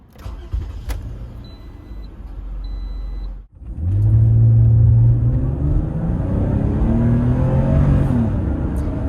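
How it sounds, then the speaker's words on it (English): A third-generation Toyota RAV4 with a V6 pulls away from a standstill. After a quiet moment and a short break, the engine swells into a loud, steady drone that climbs in pitch as the car accelerates. "It takes off from a standstill, it just launches the car right away."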